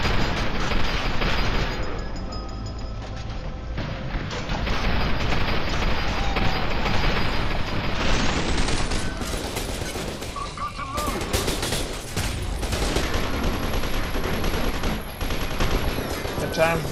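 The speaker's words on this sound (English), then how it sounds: "Thank you for the nail gun" Nail gun firing in F.E.A.R., loud rapid bursts of shots and impacts layered with booms and game noise, a voice talking over the action.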